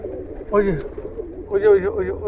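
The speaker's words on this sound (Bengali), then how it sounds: "এই যে এগুলো কালাঙ্কার কবুতর" Indian Kalangkar pigeons at a pigeon farm give two close, resonant rolling coos about a second apart, each a short burst with a wavering pitch over quiet background.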